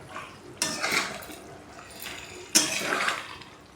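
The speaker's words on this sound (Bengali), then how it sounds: "এবার আমি মিক্স করে নেব, গরম মশলাটাকে ভালোভাবে মিক্স করে নেব।" A spoon scrapes and clatters in a pan as garam masala is stirred into chicken for a restaurant-style curry, with two distinct stirring strokes about two seconds apart, close and moderately loud.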